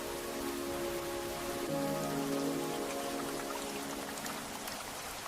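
Steady rain falls softly and evenly on a surface, a continuous gentle patter with no voices, drifting warmly and close throughout the whole stretch.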